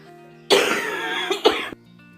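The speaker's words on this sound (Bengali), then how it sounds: "কথা বলতে গেলেই কাশি হচ্ছে" A single harsh fit of coughing, a burst followed by a second sharp hack, loud and close, with a quiet room hum before and after.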